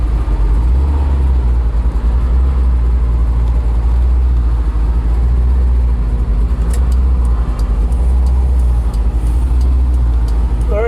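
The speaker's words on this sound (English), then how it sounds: "We'll go for a quick drive." A 1957 Chevrolet 3100 restomod pickup with fuel injection and an automatic transmission is driven along, its engine a loud steady low drone with road noise from inside the cab and faint clicks near the end.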